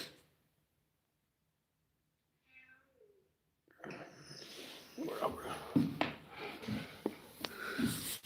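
A cat gives a brief, faint, angry meow in a quiet room, and then a person starts talking nearby with some thumps.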